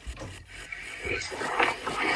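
Scraping, rasping wood-chopping noises from a tree being broken in a forest survival video game called 99 Nights in the Forest, heard as continuous gritty rubbing with a few soft knocks.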